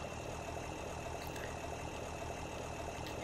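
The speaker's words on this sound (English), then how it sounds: "Start up the tractor, wait for it to warm up." Tractor engine idling in Farming Simulator 2017 while warming up, a steady, faint mechanical hum and rumble with no change in pace throughout.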